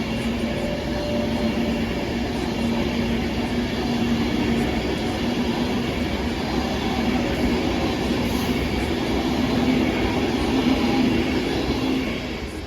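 An Avanti West Coast Pendolino passenger train on a diverted Liverpool Lime Street to London Euston run roars through Stoke-on-Trent station without stopping, a steady loud rumble with rail noise and wheel hum sustained throughout, no voices.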